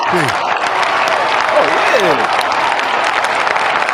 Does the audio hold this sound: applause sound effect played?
yes